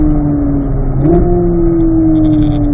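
A car pulls through a turn in third gear, its engine holding a steady, loud drone that rises slightly in pitch partway through, close and continuous with no talk.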